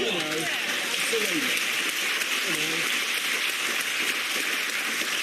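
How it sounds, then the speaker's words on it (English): A studio audience on a comedy panel show claps steadily throughout, a dense wash of applause with a panelist's voice briefly heard over it near the start. "I think we should applaud the effort, for God's sake."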